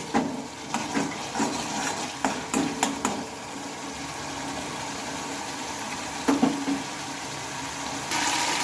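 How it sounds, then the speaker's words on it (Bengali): Spoon scraping and stirring masala as it fries in a pan for a carrot dhoka, a series of light clattering taps and scrapes over a low hiss, then a quieter stretch and a final knock. "সেটাই এখন আমি একটু হাতে টাইম নিয়ে মশলাটা ভালোভাবে কষিয়ে নিচ্ছি"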